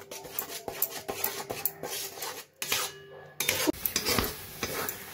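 Tomato sauce being stirred in a wok, a spatula scraping and rubbing against the pan in uneven strokes, with a soft sizzle between them and no talk.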